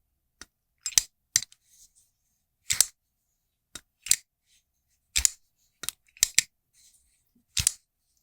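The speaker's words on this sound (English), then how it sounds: "Very clicky, and also amazingly fun knife to fidget with." Sharp mechanical clicks of a folding knife closing, about a dozen, come in uneven bursts and pairs with silence between them, close and crisp.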